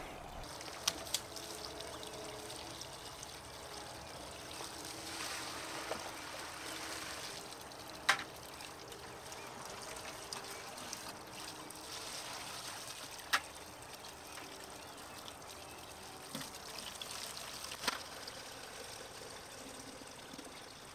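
Water flowing steadily from a spring pipe in the woods, a continuous soft rushing trickle with a few faint clicks and splashes, fairly quiet and without speech.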